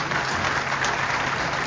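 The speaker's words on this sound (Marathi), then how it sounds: "मला वाटतं जोरदार टाळ्या व्हायला पाहिजे एवढ्यासाठीच" Applause from an audience at a public interview event in Thane with the Chief Minister, a steady dense wash of clapping filling the whole stretch at moderate level with no speech over it.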